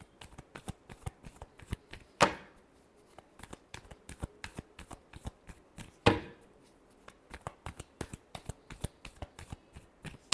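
Tarot cards are shuffled by hand in a quiet room, a rapid string of soft, crisp riffling snaps with two louder cascading riffles, close and alone.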